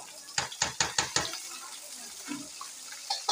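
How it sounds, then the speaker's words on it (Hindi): Beef keema with fried onions is stirred in a pot, a quick run of five sharp metallic scrapes and knocks, then softer wet shuffling and a few more clinks, fairly close. "अभी हम ऐड कर इसको अच्छे से मिक्स कर लेंगे कीमे में प्याज में"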